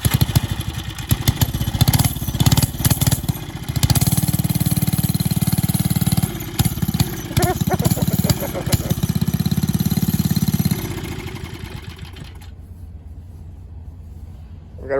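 A vintage motorcycle engine runs with a loud, close, rough putter that holds steady for about ten seconds and then drops away, while people talk over it.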